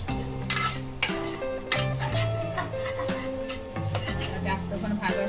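Grated coconut roasting in a pan for a Malvani Maharashtrian potato curry, with a spoon clinking and scraping against metal in irregular strokes over a soft sizzle, while someone talks.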